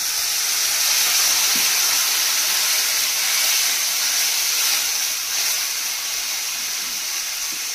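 A little water hits a hot kadai of cashew curry, giving a steady close hiss of steam that swells early and slowly eases, with no voices.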